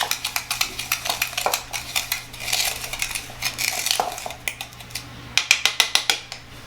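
Granulated sugar and cinnamon being mixed in a bowl, with a quick, regular run of light clinking taps from a spoon against the bowl's sides, close and continuous, without speech.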